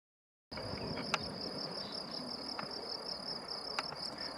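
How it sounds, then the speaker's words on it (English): Crickets chirp loudly on a spring night, a steady high, dense trill starting after a moment of silence and continuing with a few sharp clicks, no talking. "but the crickets, they are so loud."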